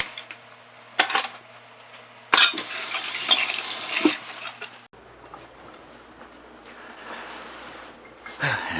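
Tap water runs into a kitchen sink while hands are rinsed during raw chicken prep, coming in short bursts: a brief splash, then a louder rush lasting a couple of seconds, followed by quieter trickling and faint clinks.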